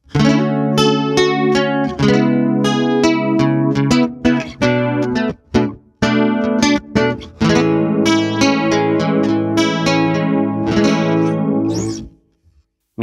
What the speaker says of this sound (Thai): เดี๋ยวขอลองคอรัสก่อน นะทำให้แบบล่องลอยขึ้นมาเนาะ